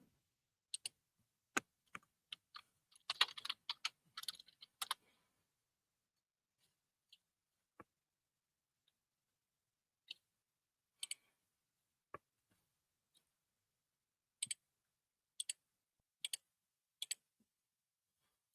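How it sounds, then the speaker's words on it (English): Sparse computer keyboard typing during a live online biology class: scattered single key taps with a brief flurry of rapid clicks early on, quiet between strokes, no voices. "Several of you are typing, no rush here."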